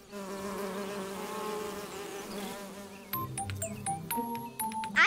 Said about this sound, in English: And that bee is buzzing.